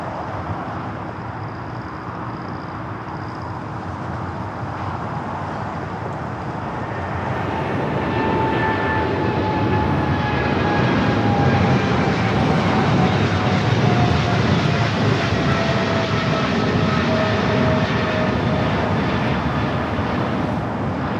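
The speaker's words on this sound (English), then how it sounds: "We got that 777 freighter now rolling down at 25 left" A Boeing 777 freighter rolls for takeoff on runway 25 left at LAX, its engine roar building after several seconds into a loud, sustained rumble with whining tones sliding downward, and no voices.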